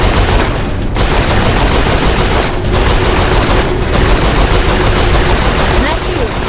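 Sustained turret fire aboard a ship in Saints Row, a dense, loud, continuous rattle of rapid shots with only a few brief breaks, filling the whole stretch.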